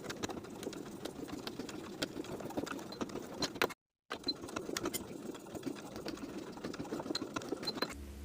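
A sewing machine stitches the short edges of a jeans waistband, a steady fast needle chatter running close and continuous, broken by a brief pause midway before resuming.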